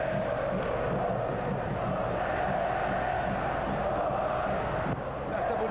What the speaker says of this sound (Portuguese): E a torcida do Palmeiras bota pressão